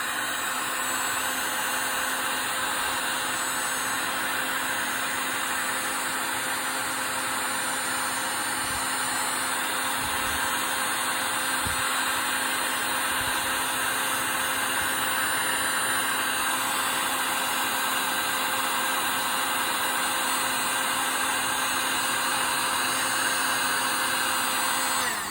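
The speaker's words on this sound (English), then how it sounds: "And now you'll just heat shrink these on." A heat gun blows a steady, unbroken roar as it shrinks tubing over the springs of big bore shocks for a Losi 5ive-T 2.0 RC car.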